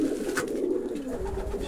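Soft, low pigeon cooing hums steadily throughout, close by, with faint rustling and no speech.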